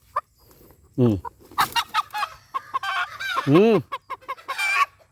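Hens cluck and squawk close by in a series of short bursts, with one drawn-out honking call partway through and brief quiet gaps between, as a brooding hen is placed on a nest of native chicken eggs.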